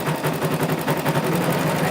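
A sewing machine stitching small lace eyelets runs at a steady fast rhythm, its rapid needle clatter continuous and close throughout.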